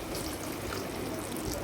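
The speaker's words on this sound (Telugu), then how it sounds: "ఇప్పుడు వాటర్ పోయాలండి." Water pours into a pot for tomato rasam, a soft continuous trickling wash at low level with no voices.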